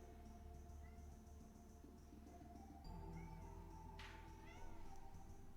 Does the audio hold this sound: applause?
no